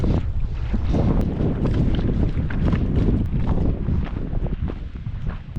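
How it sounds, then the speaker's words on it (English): Strong gusting wind buffets the microphone beside a mountain lake, a loud continuous roar with rushing surges and no speech. "The wind's gusting super hard"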